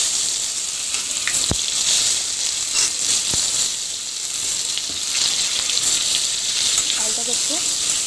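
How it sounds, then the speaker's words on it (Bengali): Potatoes frying in a pan for an egg and potato recipe, a steady bright crackling sizzle throughout with a few louder pops, fairly close and alone. "এখন আলুটাকে ফ্রাই দিয়ে দেবো"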